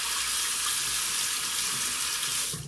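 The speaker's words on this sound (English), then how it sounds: "running hot water on it, it's not even wanting to come off of the razor" Hot tap water runs steadily over a lather-clogged shaving razor, a loud, unbroken rushing hiss from start to finish with no voices.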